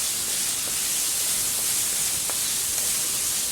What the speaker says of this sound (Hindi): अब मैं चिकन ऐड करने लगा हूँ।